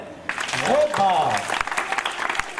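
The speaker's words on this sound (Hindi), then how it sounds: "मजा है तो तालियां देना" Children clap together at a Diwali celebration held by an NGO for underprivileged kids, a short burst of applause under a speaking voice.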